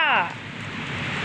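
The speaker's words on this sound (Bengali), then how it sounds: "মনে হচ্ছে ধোয়া, এত বৃষ্টি হচ্ছে।" Heavy rain pours steadily onto surfaces around a pigeon coop, a dense, even hiss that continues throughout, with a voice briefly heard at the start.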